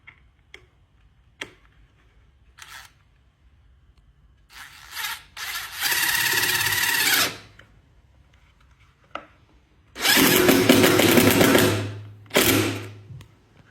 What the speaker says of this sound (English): I'm gonna drill the holes in the side, and gonna run the wires through here